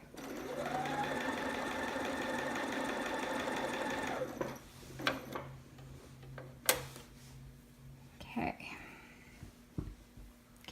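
A sewing machine runs steadily along a romper bodice for about four seconds, then stops, followed by clicks and fabric handling as the needle is lowered and the material straightened.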